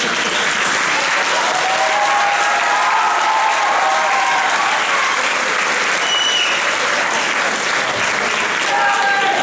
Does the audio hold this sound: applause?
yes